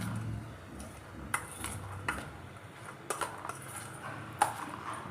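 A spoon mixing chana masala chaat with lemon juice in a bowl, faint scraping with several light metallic clinks at irregular intervals against a quiet background.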